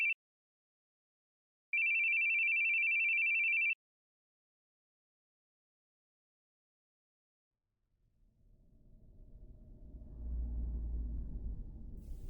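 An electronic telephone ring from the video game The Boogie Man sounds twice as a steady, sharp, high tone: a short burst, then a longer two-second ring. Silence follows, then a low rumble slowly swells.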